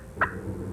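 A turkey call imitates a wild turkey's fly-down cackle: two short, sharp bursts of clucking notes, close and fairly loud, separated by a brief pause, with no talking.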